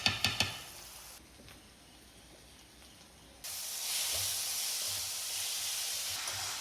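Khichuri with potato, soybean, carrot and pointed gourd cooking in a pot: a few sharp knocks of the lid, then a quiet stretch before a loud, steady steaming hiss and sizzle rushes up and holds close by.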